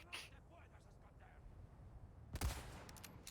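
A single loud rifle shot from the Resident Evil 4 Remake video game rings out near the end, following quieter background game sounds with a faint earlier crack.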